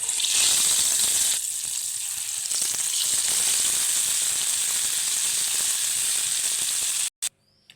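Sweet bonda dough balls frying in hot oil give a loud, steady hiss and sizzle that stops abruptly near the end.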